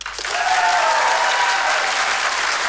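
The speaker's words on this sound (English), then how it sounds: "You're going to vote as an audience with your applause." Theatre audience applauds to cast a vote at a live mind-reading stage show, loud dense clapping that swells quickly and holds steady with a faint tonal whistle above it.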